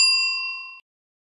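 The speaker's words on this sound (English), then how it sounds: "Hit the notification bell." Bright notification bell ding, a single clear metallic chime with ringing overtones that decays over under a second, then silence.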